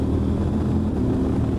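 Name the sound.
CF Moto 1000 MT-X motorcycle engine accelerating under throttle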